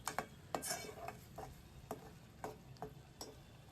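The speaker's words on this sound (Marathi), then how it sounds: "हे जे वाटण आपण बनवलं आहे त्याला आता थोडा वेळ हलवून घ्यायचं" Ground masala paste stirred in oil in a pan for a tomato saar, with soft, irregular scraping strokes of a spoon over a faint sizzle, close and quiet, no talking.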